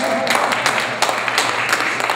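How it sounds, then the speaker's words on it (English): An audience at a community college ribbon cutting claps steadily. The applause is dense and fairly loud throughout this short stretch, with no clear talking over it. "It's good that you can applaud for that too, isn't it?"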